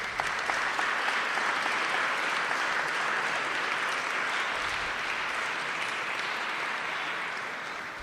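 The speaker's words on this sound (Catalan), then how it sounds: "Un aplaudiment, sisplau." A seated audience at a festival concert presentation breaks into sustained, dense applause that carries on evenly and tapers slightly at the end.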